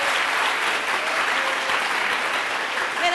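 Applause for school contestants at a Catalan spelling quiz show, a thick, steady round of clapping from a close audience, sustained evenly throughout.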